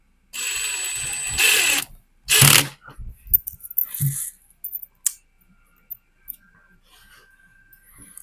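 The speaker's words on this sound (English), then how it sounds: "This is part number 1 that we're screwing these cam pins into." Cam pins being screwed by hand into a flat-pack corner bath cabinet panel: a few loud bursts of rasping, ratcheting turns up close, then scattered lighter clicks and taps trailing off into quiet.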